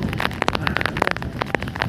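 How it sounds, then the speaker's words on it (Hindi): Steady rain patters on a surface outdoors during a morning run, with scattered sharper drips and splashes standing out over a continuous wash of noise. "यहाँ पे बारिश होने लगा"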